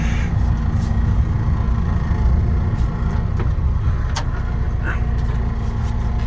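A Mahindra Roxor idling in 4-low, rolling slowly on its own out of a beach in cold weather, a steady engine drone with faint ticks and light rattles on top.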